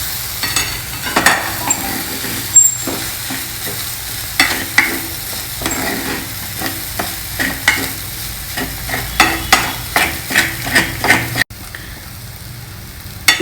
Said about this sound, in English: we'll add in this crumbled usli into it. And just stir it for a few minutes